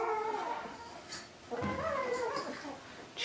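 Three-week-old AussieDoodle puppies whimper and whine in high, wavering cries that rise and fall almost continuously, close by, with a brief yip-like squeal partway through.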